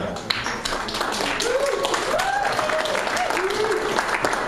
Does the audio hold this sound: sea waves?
no